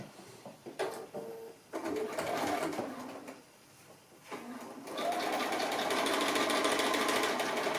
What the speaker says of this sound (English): now we're just ready to stitch that all the way along from one end to the other on both sides